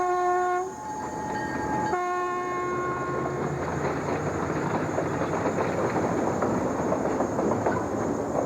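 The Newfoundland Express pulls out with a loud, sustained horn blast at the start, then a steady rumble and clatter of the moving train fills the rest, close and continuous.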